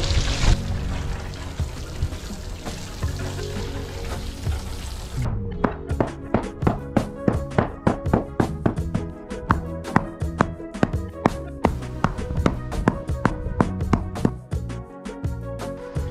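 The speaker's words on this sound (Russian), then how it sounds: "затем утрамбовываем песок самодельной колотушкой, сделанной из черенка и доски" A homemade wooden rammer made from a shovel handle and a board tamps watered sand for a garden path, a long run of rapid, evenly spaced dull thuds following a wash of pouring water.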